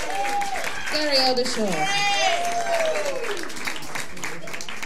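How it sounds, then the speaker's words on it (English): Jazz club audience applauds continuously as band members are introduced, steady clapping running underneath a voice speaking over it with drawn-out, sung-like intonation. "Another round of applause."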